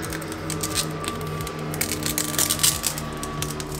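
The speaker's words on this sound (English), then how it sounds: "So now we can peel off this plastic cover and then test it." A protective plastic cover is peeled off a glossy black Tesla Model Y or Model 3 lighting upgrade part, producing crackly, crinkling bursts of tearing film, close and fairly loud, with no voices.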